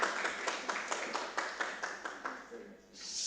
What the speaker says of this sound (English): Please give applause to Nadia.